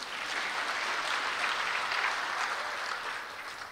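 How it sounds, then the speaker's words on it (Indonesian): Full, sustained applause from a church congregation during a sermon, a loud, even roar of many hands clapping that holds steady and then eases slightly at the end. "Tepuk tangan kayak apa gitu."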